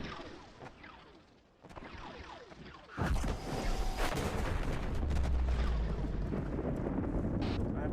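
Tanks firing in the Arma video game, heard as a heavy boom that starts a loud, sustained rumble of gunfire and explosions, with faint thuds before it and a voice talking over the noise.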